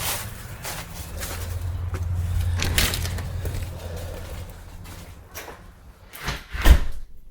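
An entrance door in a house opens with a soft creak and rustle, followed by shuffling and a louder knock or thud near the end.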